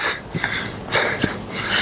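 Labored, wheezy breathing from a trekker at 2000 metres altitude, short close-up gasps and rasping inhales and exhales in an irregular rhythm.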